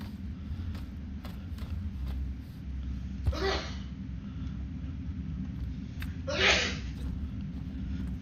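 A person sneezes twice over a steady low rumbling background, each sneeze a sharp, breathy burst about three seconds apart, close and clearly audible.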